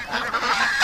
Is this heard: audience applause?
no